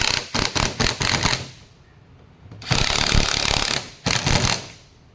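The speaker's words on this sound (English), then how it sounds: "Now these, I would definitely use a power driver on." Self-tapping screws are driven into an oval deck plate with a power driver, heard as close, loud bursts of rapid rattling impacts separated by short pauses, three runs in all.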